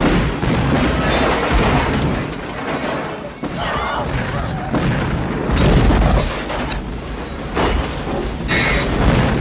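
A loud, rumbling blast with thuds and booming bursts rolls on continuously, dense and cinematic, a large explosion sequence from the film The Long Kiss Goodnight.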